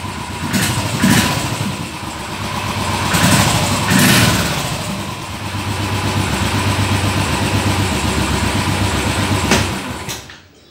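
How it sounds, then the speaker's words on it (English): Royal Enfield Thunderbird 500 BS4 motorcycle engine idling nearby, a loud, steady low thump with slight surges in revs, before cutting off abruptly near the end when the side stand sensor shuts the bike down. "Bikes turned on."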